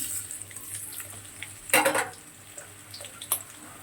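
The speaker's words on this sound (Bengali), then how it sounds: "ওই তেলের মধ্যে পেঁয়াজ দিয়ে দিচ্ছি।" Onions hit hot oil after potatoes were fried in it. A quiet background sizzle bursts into a loud frying hiss about halfway through, then settles into softer crackles and a few light pan clinks, close by, with no speech.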